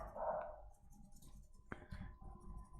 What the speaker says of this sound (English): Please excuse my dog Charlie.